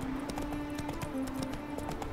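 A horse's hooves clip-clopping on a road in The Witcher 3 video game, a steady trotting rhythm of sharp, repeated hoofbeats over a constant background of game ambience and music.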